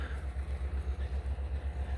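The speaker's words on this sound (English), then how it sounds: "pardon the noise, we have construction crews redoing our highway, and they're being loud." Highway construction crews at work on a road produce a low, throbbing machinery rumble that pulses steadily at a regular rhythm, fairly quiet and continuous, with no voices.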